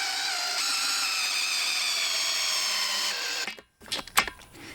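Power tool driving a 3-inch lag screw into a fence post for a dog kennel build: a steady, loud whirring drone for about three seconds, then a brief drop to silence and a few sharp irregular knocks and clatters.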